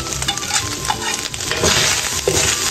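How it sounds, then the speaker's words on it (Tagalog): Ground pork sizzles and fries in a pan with garlic and onion, a loud steady hiss broken by occasional scrapes and clinks of a utensil stirring against the pan, with no talking. "akin na pong iginigisa po itong ating giniling po na karning baboy"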